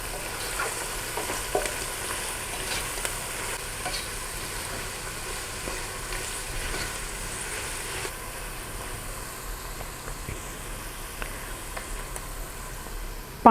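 Chinese pulao with crushed black pepper is stirred in a pan, making a steady, moderate frying sizzle and soft scraping throughout, with no talking.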